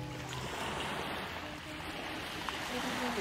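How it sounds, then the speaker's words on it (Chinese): Water laps gently at the Tai O waterfront in Hong Kong, a soft continuous wash with faint background voices of people nearby, heard at a modest distance. "好治愈嘅水声"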